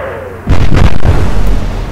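Naval gunfire from light cruisers in the Atlantic Fleet video game: one loud heavy boom bursts in after a quiet half-second and rolls on as a long, dense rumbling roar with no talking.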